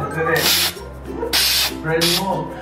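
An aerosol can of artificial snow is sprayed onto a Christmas tree in three loud, close hissing bursts, each under a second long, with people talking between them.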